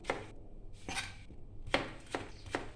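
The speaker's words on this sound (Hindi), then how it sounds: "गोल गोल काटने के बाद फिर इसको ऐसे हम काटेंगे, सबको इकट्ठा करके।" Potato slices being cut into chips with a knife: a series of sharp, irregular chopping strikes on a board, close and fairly loud, with no talking.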